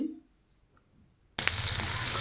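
Chopped onions hitting hot mustard oil with cardamom, cinnamon and cloves, near silence then a sudden loud sizzle that keeps frying steadily and close up.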